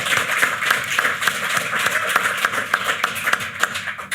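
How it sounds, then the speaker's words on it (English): A live podcast audience at the Battle of Ideas breaks into applause, a dense, steady wash of many hands clapping throughout with sharp individual claps poking out, close and fairly loud. "And let's give George a round of applause."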